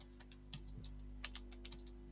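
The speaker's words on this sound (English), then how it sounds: "I can hear Gareth typing." Quiet keyboard typing from a computer, scattered soft clicks and taps in irregular bursts over a low steady hum, somewhat distant.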